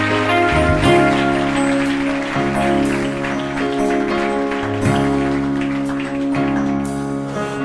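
Church congregation clapping hands during a worship service, a steady wash of applause-like claps layered over sustained music, fairly loud and continuous throughout.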